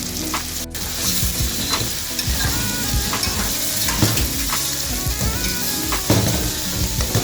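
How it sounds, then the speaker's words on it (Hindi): Chicken pieces sizzle and fry in a pot for chicken biryani while being stirred, a steady loud crackle with scraping stir strokes throughout and no talking. "चिकन डाल के इसको एक बार हिलाएंगे।"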